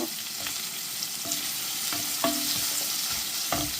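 Chopped onions fry in a pan with green chillies, producing a loud, steady hiss of oil. Occasional stirring scrapes and light knocks ride on top.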